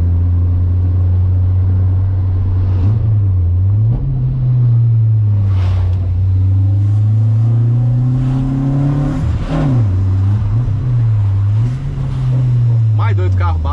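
A lowered Volkswagen Saveiro drives over a bumpy road with a deep, loud, continuous engine roar that swells and dips with the throttle, while voices chatter intermittently over it.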